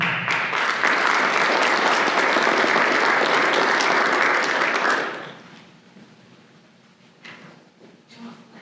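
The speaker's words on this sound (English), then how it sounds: "Could we please give one more round of applause for these outstanding individuals?" Loud, sustained applause from an audience at a National Honor Society induction ceremony, lasting about five seconds before cutting off to a quiet room with faint shuffling.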